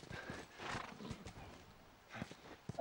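A horse in The Last of Us gives a whinny over a few soft hoofbeats, the neigh rising briefly and then fading, with a second short call near the end.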